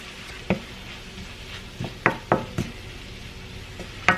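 A spoon scrapes and knocks against a pot of red beans and rice with ham hocks and smoked sausage, a few sharp clinks spaced over a soft simmering sizzle, close and without talk.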